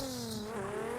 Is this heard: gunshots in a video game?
no